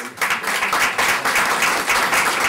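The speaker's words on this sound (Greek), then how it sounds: "Και δύο παλαμάκια" A short burst of steady clapping from a crowd gathered in a taverna for a pita-cutting celebration and association elections, close and fairly loud.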